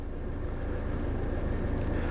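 A warm diesel-type car engine idles steadily, with a faint up-and-down unevenness suggesting worn injectors; a close, continuous low rumble with no voices.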